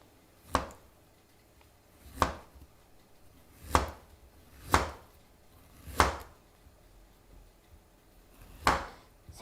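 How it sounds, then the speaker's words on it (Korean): Fresh ginger sliced with a kitchen knife on a cutting board, six firm, evenly spaced chops that land close and clear in a quiet kitchen. "제가 생강도 썰어서 준비해 놔둘게요"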